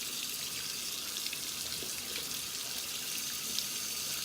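Steady broadband rush of water running from a bathroom tap, held at an even level throughout, with no voices.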